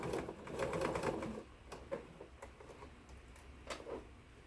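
A sewing machine stitching fabric for a quilt block, a short fast burst of rhythmic needle chatter followed by quieter scattered clicks and taps, close and moderately soft.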